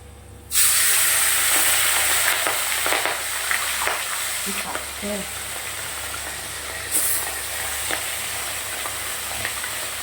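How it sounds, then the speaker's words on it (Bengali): Small puti fish frying in hot oil in a kadai: a loud sizzle bursts in after a brief silence, then holds as a steady crackling hiss with a few sharper spits. "তেল প্রায় গরম হয়ে গেছে, মাছটা আগে ভেজে নেব।"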